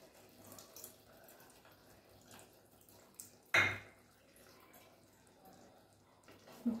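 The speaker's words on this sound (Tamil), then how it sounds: "இப்போ நம்ம புளி கரைசல் ஊற்றலாம்" Tamarind extract poured into a simmering brinjal curry, a short liquid splash and pour over a soft bubbling background, close and quiet.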